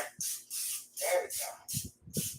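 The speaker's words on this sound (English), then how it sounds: "A little bit of non-stick spray." Several short bursts of hissing non-stick cooking spray, close by, separated by brief pauses, with faint low thuds between some bursts.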